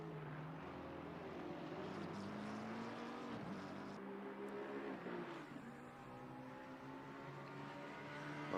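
McLaren GT3 race car engine in the racing game Assetto Corsa Competizione during an endurance race, a steady, loud droning roar with rising and falling pitch sweeps as it shifts through gears, heard alone without talk.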